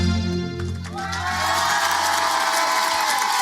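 Studio audience at a live music session with a rapper cheers and applauds loudly after the performance, a dense, sustained roar of crowd noise following the song's final notes.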